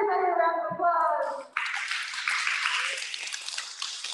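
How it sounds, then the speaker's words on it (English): After an adult voice speaks briefly, a round of applause rises at an elementary school morning assembly for second graders and continues as a moderate, even patter of clapping. "let's give everybody a round of applause"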